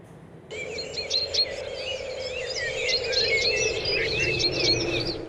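Wild birds sing in the Andean Chocó forest near Pacto, Ecuador, with busy overlapping chirps and twittering calls over a steady insect-like drone, loud and continuous, with no talk.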